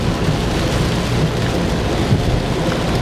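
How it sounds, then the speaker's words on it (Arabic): Heavy rain pours down in Jeddah, a loud, dense, unbroken hiss of downpour close to the microphone, steady throughout with no talking. "امطار امطار خرافيه"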